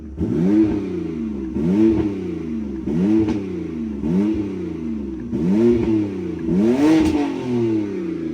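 A BMW 328 engine revs repeatedly, about six rising-and-falling vroom bursts in a steady rhythm, loud and close.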